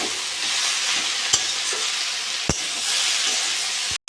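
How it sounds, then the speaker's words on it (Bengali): Fish curry masala with tomato and ground spices is stir-fried in a pan, giving a loud, steady close sizzle with a few sharp spoon knocks against the pan and a sudden cut at the end. "টমেটো কেটে রেখেছি, এটা দিয়ে দেবো। ভালো করে কষে নেবো।"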